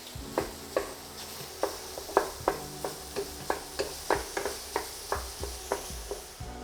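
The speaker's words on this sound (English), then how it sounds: "we're just gonna cook our sausage until they're brown" Hot Italian sausage sizzles softly in a pan while a utensil crumbles it, producing a quiet steady fry under a series of regular scraping taps and knocks, roughly two per second.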